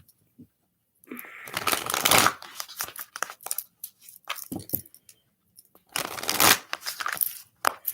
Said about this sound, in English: So I'm doing like the full shuffle.